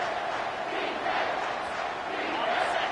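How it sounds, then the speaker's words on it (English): Stadium crowd at a college football game between Texas and FSU roaring on third down, a dense sustained wall of cheering and shouting at steady loudness throughout. "this crowd will blow out a vocal cord to help this defense"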